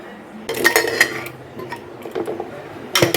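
Boiled banana stem lifted out of a cooking pot in a home kitchen: bursts of clattering metal utensil and pot clinks, close and fairly loud, spaced by quieter scraping, with a final sharp clank.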